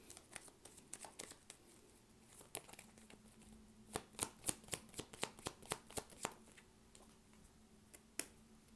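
Tarot cards being shuffled and handled: quiet, close riffles and crisp flicks, with a cluster of sharp card snaps in the middle and a final snap.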